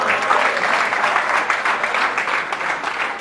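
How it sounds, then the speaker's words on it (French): An audience applauds steadily throughout, a dense, even wash of many hands clapping at a moderate, constant level with no voices standing out. "Est-ce qu'on peut applaudir pour vous quand même?"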